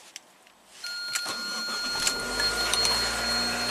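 A 2014 Chevy car is left in drive during a starting attempt. Clicks and a starter whir rise into a steady engine-like drone, with chime tones above and no voices.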